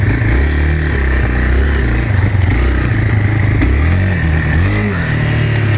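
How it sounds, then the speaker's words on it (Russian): Yamaha XT225 Serow motorcycle ridden off-road: a loud, close single-cylinder engine droning and rising and falling in pitch with throttle changes, with rattling and scraping over rough ground and no talk. "Итак, друзья, динамические испытания Yamaha Serov."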